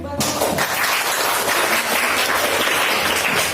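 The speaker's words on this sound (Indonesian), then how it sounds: "Tepuk tangannya dong." Students in a classroom applauding group 1 after their presentation, a dense, loud burst of clapping that starts abruptly and carries on steadily.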